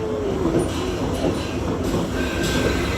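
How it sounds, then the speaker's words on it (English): Steady rumble of a train car rolling along the rails, with faint metallic squeals and a constant low clatter throughout. "I had the opportunity to board one of these train cars,"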